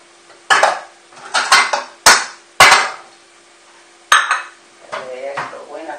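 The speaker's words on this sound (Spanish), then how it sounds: "Vamos a poner un plato." A soup plate is set out beside a pot of poultry soup, with dishes and cutlery clattering: several sharp, close ceramic and metal clinks and knocks in separate bursts, loud against a quiet background.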